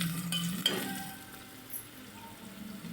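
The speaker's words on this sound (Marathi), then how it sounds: "मस्त असा कांदा फ्राय झाला." Chopped onion fries in a pan with whole spices such as cinnamon, cloves and black pepper for a prawn pulao, giving a soft, close sizzle with a few scraping stirs of a spoon early on, with no talk.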